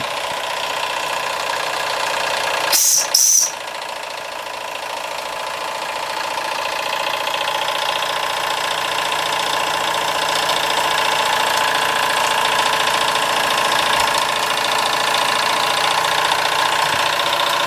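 A Stirlingkit Retrol SE-03 model steam engine runs on a gas burner with a steady, loud mechanical chugging hum, broken early by two brief sharp bursts of hissing.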